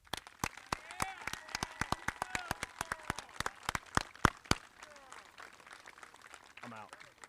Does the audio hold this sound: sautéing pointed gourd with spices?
no